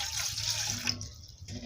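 Water is poured from a glass into an empty pan to make mint detox water, a steady splashing pour that thins out toward the end, with a voice talking over it.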